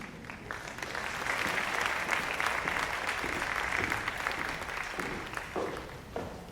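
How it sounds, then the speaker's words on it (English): Audience applause for a fifth grade choir at a school recital, a steady wash of clapping that swells and holds for several seconds before tapering off, moderately distant. "round of applause for the fifth grade choir"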